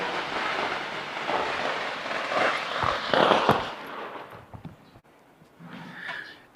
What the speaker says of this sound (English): See, there's the fireworks. They go off about every 5 minutes at the moment.